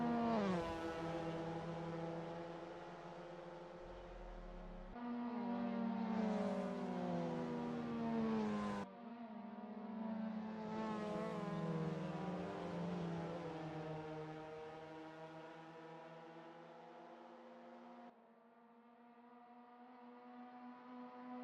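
Mazda MX-5 Cup race cars lap Harris Hill Raceway, their engines droning steadily with rising and falling pitch as gears shift, several cars overlapping in a sustained, moderately distant buzz.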